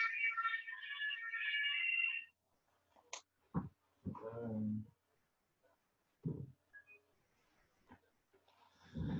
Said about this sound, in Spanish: está sonando mi teléfono